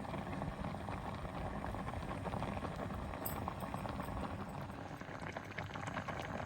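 Okra pulusu, a tamarind-based stew, bubbles and simmers steadily in a pot, a dense continuous crackling boil that stays even throughout with no talking.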